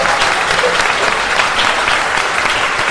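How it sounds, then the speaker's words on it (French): Sustained, dense applause from a sizable crowd, steady and loud throughout with no pauses. "Je vous propose donc de faire un tonnerre d'applaudissements à mon premier invité."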